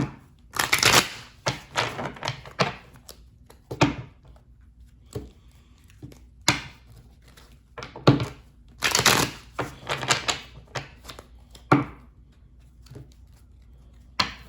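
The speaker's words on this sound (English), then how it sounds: "let's get these cards shuffled" Tarot cards being shuffled in quick, crisp bursts of riffling and slapping, with short pauses between rounds, close by and fairly loud, no voices.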